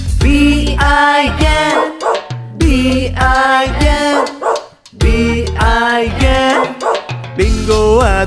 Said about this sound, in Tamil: விவசாயி வளர்த்தார் ஒரு நாயை, பிங்கோ அதன் பேரு பி ஐ.